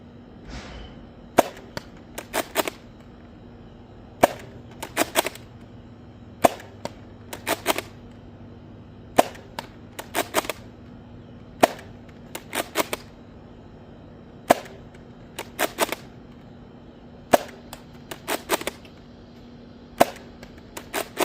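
A Jupiter bolt-action spring airsoft rifle fires repeatedly, sharp close snapping shots often in quick pairs or triplets with the clack of the bolt, spaced at irregular intervals over quiet background.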